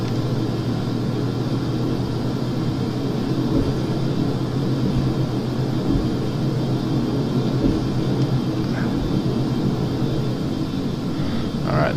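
Airplane engine roaring steadily during a takeoff roll in Flight Simulator X, a constant loud drone with low rumble and a high whine, continuous and unchanging throughout, with no talking.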